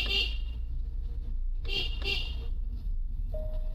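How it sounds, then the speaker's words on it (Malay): A car horn sounds in a few short honks at a road corner amid road and engine noise, with some speech mixed in. "Sini kalau corner-corner, elok kita bunyi horn guys"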